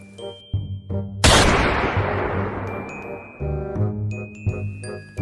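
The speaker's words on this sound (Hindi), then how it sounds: "फायर करिए, कोई तो गिरेगा।" A single loud gunshot fired at a flock of birds, a sharp blast with a long decaying tail, set among music and chiming effects in an animated Hindi comic story.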